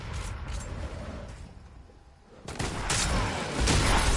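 Gunfire in a video game arena match, a muffled, distant-sounding crackle of shots and blasts that dips to quieter rumble midway, then swells louder and more intense toward the end.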